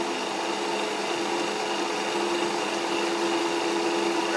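A Bridgeport milling machine driven by a treadmill motor runs at a steady speed, giving an even, continuous mechanical whine and hum with a constant tone and no cutting load.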